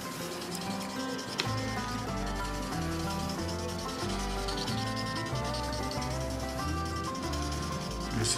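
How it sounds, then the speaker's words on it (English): Sanding pad rubs steadily across the paintwork of a 2022 Nissan GTR R35 during polishing, a continuous close grinding hiss with music-like tonal hum underneath. "You hear the sound of the sanding?"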